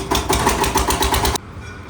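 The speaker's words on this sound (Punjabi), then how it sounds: "ਉਹੀ ਚੱਲ ਪਈ ਮਸ਼ੀਨ ਹੁਣ ਟਰੈਕਟਰ ਵਾਲੀ" A diesel tractor engine chugs nearby in a fast, regular rhythm, then cuts off abruptly near the end.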